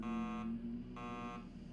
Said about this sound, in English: How could something be beeping already?